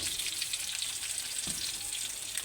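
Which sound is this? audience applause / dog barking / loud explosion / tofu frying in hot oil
tofu frying in hot oil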